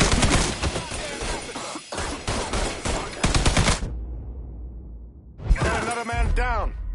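Loud bursts of gunfire from the video game Mafia III, with heavy rapid shots at the start, a brief lull with low rumble, then another sharp volley.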